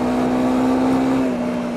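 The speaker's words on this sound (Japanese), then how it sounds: "あえて3速にシフトダウン。" A Honda CRF250L dual-sport motorcycle's single-cylinder engine drones steadily at high revs in third gear after a downshift, a loud, even, buzzing hum close by with slight pitch drift toward the end.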